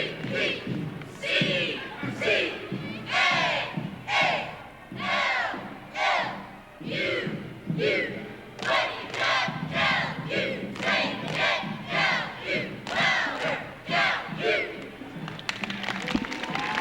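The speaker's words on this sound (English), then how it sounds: "Let's get a listen to what the California Cheerleaders are going to do." California University cheerleaders chant a cheer in unison at a homecoming parade, rhythmic shouted phrases with thumps and some crowd noise, fairly close and continuous.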